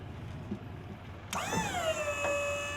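A dump trailer's electric hydraulic pump motor starts abruptly and whines steadily as it strains to raise the bed, its pitch sliding down and settling into a sustained hum, close and loud over low background rumble.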